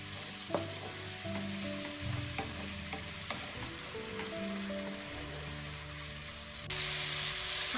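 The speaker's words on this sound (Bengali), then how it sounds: "জিরার গুঁড়া, গুঁড়া মশলা এবং রসুনের পেস্ট দিয়ে মশলাটাকে কষাতে হবে।" Spice paste of cumin powder, ground spices and garlic paste is sautéed in a pan for a hilsa and zucchini curry, a steady close sizzle broken by repeated scraping stirs, growing brighter at the end.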